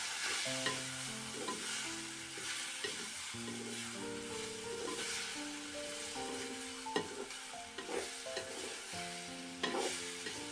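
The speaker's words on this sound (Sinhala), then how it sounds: "අන්න ඒක අරගෙන මම අර ටෙම්පරාදුවට දාගන්නවා." Steady crackling sizzle of spiny gourd frying in hot tempering oil, with stirring scrapes and a soft tonal background hum throughout.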